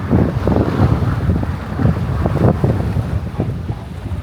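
Strong sea waves surge against a jetty in Trang, Thailand, at high tide, with a steady roar of water and rushing wind buffeting the microphone throughout, and heavier swells breaking every second or so.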